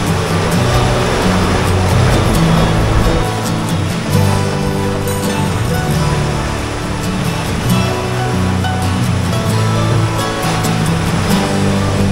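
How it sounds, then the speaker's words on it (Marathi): Sea waves crashing against coastal rocks at high tide near Guhagar, a loud, continuous roar of surf with no pauses and no talk. "इथे जे खडकं आहेत खाली त्याला आपटल्यानंतर भरती जास्त असेल हा ते पाणी पूर्णपणे असं वरती उडतो जोरात,"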